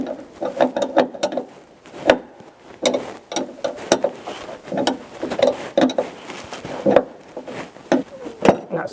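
A wrench works loose a threaded fitting during a Mazda RX-7 restoration teardown, a run of close, rhythmic ratcheting clicks and metallic knocks repeating for several seconds.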